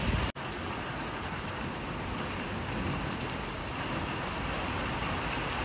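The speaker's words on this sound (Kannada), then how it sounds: "ಸೊ ಇವಾಗ ಈ ಮಳೆ ಸೌಂಡಿಗೆ ಎದ್ದಿದ್ದೀನಿ." Heavy rain pours steadily and loudly, a dense unbroken hiss of drops hitting surfaces close by for the whole stretch, with no voices.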